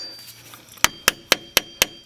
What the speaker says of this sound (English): we're going to give it a little bit of persuasion with a flathead and a hammer